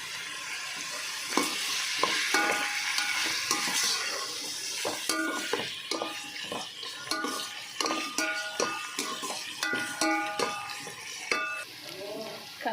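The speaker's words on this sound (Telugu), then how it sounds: "దొబ్బ కూడా ఇందులో వేసేస్తాను. వేసేసి ఒక్కసారి కొంచెం మంచిగా వేగించుకోవాలి." Boiled goat tripe frying in a pan, a constant sizzle under repeated metallic scrapes and clinks of a spoon stirring against the pan, close and steady with no talk.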